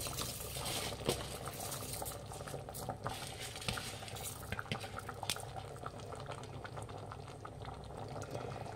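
Coconut milk masala for methi chicken biryani boils in a pot, a dense steady bubbling and popping with scattered sharper pops, close and continuous without talk.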